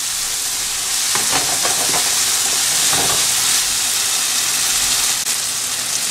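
Masalas and vegetables sizzle in a hot kadai for a kadai vegetable curry, with a steady frying hiss and a cluster of scraping stirring strokes near the start, close and fairly loud.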